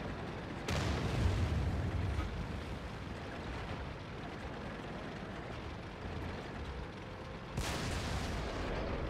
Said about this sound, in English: Trying to evade shells from that M103 and the super Pershing at the same time